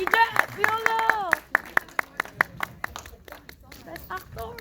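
Audience at a film Q&A with the cast and director claps in a scattered, uneven round, individual hand claps standing out sharply as voices call out over them, the clapping thinning toward the end.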